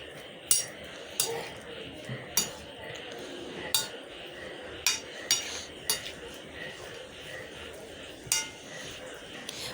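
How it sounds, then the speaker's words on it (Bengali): Salad ingredients with toasted white sesame being mixed on a plate, a utensil clinking against the dish in a series of irregular light taps over soft handling noise, close and without talk. "এখন আমি সব পণ্যটা ভালো করে মাখিয়ে নেব"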